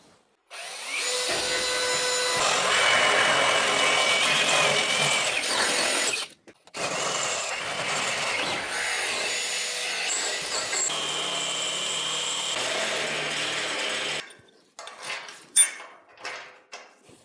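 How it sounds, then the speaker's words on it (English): A power drill whines steadily through welded metal on a bale trailer for several seconds, pauses briefly, then grinds on again before trailing off into a few clanks and knocks. "now I need to drill the holes"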